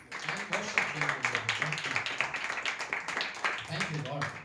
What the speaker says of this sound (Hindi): हम लोग थैंक यू कहकर परमेश्वर के लिए ताली बजा सकते हैं